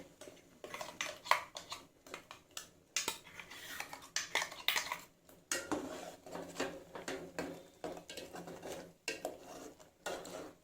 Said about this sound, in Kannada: ಈಗ ಹೀರೆಕಾಯಿಗೆ ರುಬ್ಬಿರೋ ಮಸಾಲೆನ ಹಾಕ್ತಾ ಇದ್ದೀನಿ.